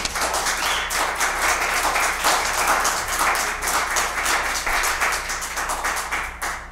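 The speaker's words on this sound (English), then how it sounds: "I do have to ask you all to hold your applause a little bit" Audience applause at a zoning appeals public hearing, loud sustained clapping from a crowded room that continues evenly for several seconds, with many overlapping hand claps.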